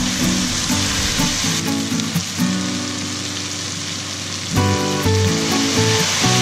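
Pieces of lamb meat sizzling and frying loudly in a pan with spices for a caldereta stew, with steady crackling and the scrape and clatter of stirring throughout.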